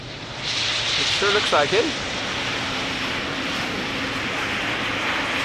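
A jet airliner roars at Amsterdam Schiphol Airport after a go-around, its engine noise a broad, steady rumble at moderate distance throughout, while someone speaks briefly over it near the start.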